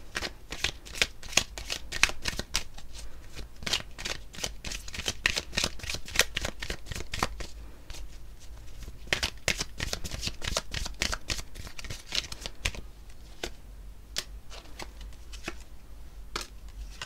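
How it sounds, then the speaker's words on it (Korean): A tarot deck is shuffled over and over, giving rapid riffling flutters in repeated bursts with short pauses between them. The sound is close and fairly soft, with no talking. "그래서 제가 추가 카드를 한번 뽑아볼게요"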